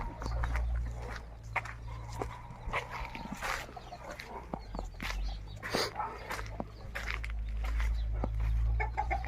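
Chickens cluck and squawk in short bursts over a steady low hum, with a dog barking now and then nearby.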